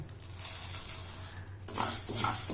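Cumin and coriander seeds dry roasting in a pan for kopparai coconut spice powder, a steady close scraping and stirring rattle with faint sizzle, growing a little busier with clinks toward the end.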